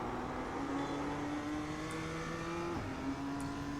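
A BMW M2 engine in iRacing at Mount Panorama, Bathurst, steady and droning as it pulls under acceleration, then a quick gear change drops the pitch before it climbs again.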